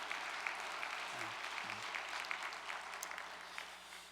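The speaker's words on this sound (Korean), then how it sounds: "우리 새 목사님을 위해서 박수 한번 보내겠습니다" Church congregation on its feet applauding a new pastor, steady dense clapping held at a moderate, somewhat distant level with faint voices underneath throughout.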